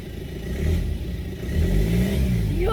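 A remapped car engine revs on a test drive, with a steady mid-pitched drone swelling twice as it accelerates, close and fairly loud, with no talking.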